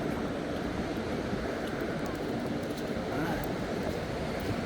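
A little creek flows out onto Paraparaumu Beach, a soft, continuous wash of water with faint wind, steady and moderately near.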